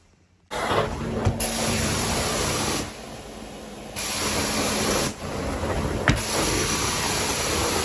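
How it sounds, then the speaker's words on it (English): A carpet cleaner sprays a pre-treatment mix onto a carpet stain in long, close, loud hissing bursts, broken by two short pauses, with no talk. "I'm going to apply the regular pre-treatment mix to it as well."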